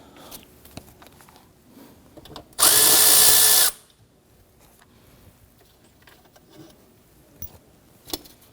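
Power tool removing bolts on a Kia Sorento during starter replacement, a single loud, close burst of about one second, surrounded by quiet clinks and handling noises.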